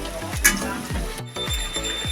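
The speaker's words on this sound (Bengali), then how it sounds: "আমি এখন উল্টে দিচ্ছি তবে এইভাবে সবগুলোকে ভেজে নেব" Young jackfruit pakoras sizzle in hot oil with a crackling, bubbling hiss, joined by a few scraping turns of a spatula at close range.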